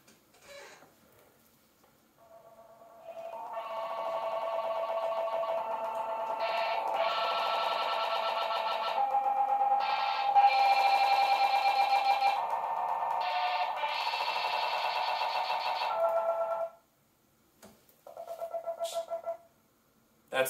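A glitchy effect plugin preset chops and fractures a sustained synth-like tone into random stuttering fragments, loud and continuous for about fifteen seconds, then cutting out abruptly with a short burst afterward.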